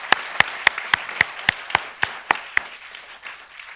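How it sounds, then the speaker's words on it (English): Sharp, regular handclaps ring out for the graduating class at a ceremony, about a dozen evenly spaced claps over a softer bed of crowd applause. "Round of applause for the class."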